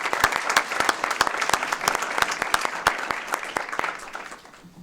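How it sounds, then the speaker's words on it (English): A room claps for the Sacagawea Youth Ensemble at a Board of Education meeting: close, crisp, sharp hand claps in a steady patter that thin out and fade at the end. "applause, please"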